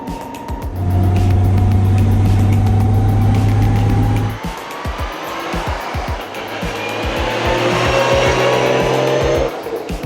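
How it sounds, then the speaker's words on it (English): A Nissan R33 GTR V Spec with a 5-speed Nagayo Tech close-ratio straight-cut gearbox whines steadily under engine drone while accelerating, the pitch rising through two long pulls separated by a brief shift. "5-speed Nagayo Tech close ratio transmission with straight cut gears, which means you get that distinctive whine sound in the transmission"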